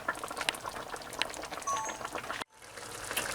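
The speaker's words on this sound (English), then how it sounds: "So just allow it to keep simmering until that oil starts to float." Fish pepper soup simmering in a pot, a steady bubbling and popping with small liquid crackles throughout, briefly cut off near the end before resuming.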